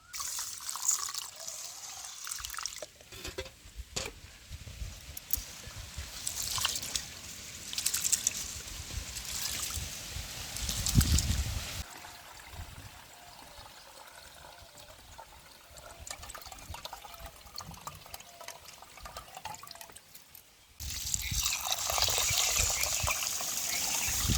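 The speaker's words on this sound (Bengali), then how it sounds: "সবার আগে চালটাও ধুয়ে নিয়ে ভিজিয়ে রাখবো" Rice is washed in water before soaking: running tap water and splashing, with trickling and dripping, close and moderately loud, going on steadily for a long stretch with a brief quieter pause near the end.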